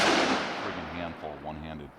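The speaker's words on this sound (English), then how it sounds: "we're shooting high quality self-defense ammunition" A revolver gunshot, likely a S&W Model 629 5-inch Classic or Magnum Research BFR firing self-defense ammunition, gives a loud close blast with a long decaying tail, and a voice comes in over the fading report.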